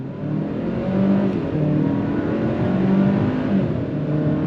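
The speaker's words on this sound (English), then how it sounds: "we're gonna go on throttle as soon as the light goes green" A Hyundai Santa Cruz XRT pulls away hard from a standstill in sport mode, its engine droning steadily and building through the gears. The sound is fairly loud and continuous, with no talking.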